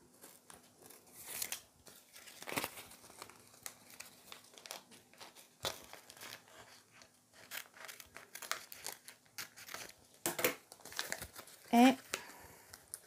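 Plastic book-covering film being cut with scissors, heard as a run of close crinkling, snipping and rustling bursts with short pauses between them.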